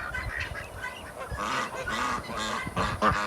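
Geese honk repeatedly and loudly at close range, their overlapping, harsh calls forming a busy, continuous clamor.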